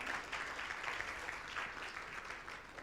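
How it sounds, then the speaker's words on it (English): Sustained audience applause at a national public policy symposium on basic education, a steady dense wash of many hands clapping at moderate distance throughout, with no talk over it. "let's give ourselves another round of applause"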